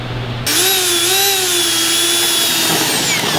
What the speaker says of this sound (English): We're going to use the Unibit here.